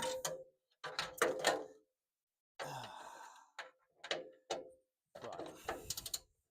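Ratchet with a 1/2 inch drive socket turning a 10 mm bolt while stripping a Maserati 4200 coupe, several short bursts of quiet clicking pawl strokes separated by pauses.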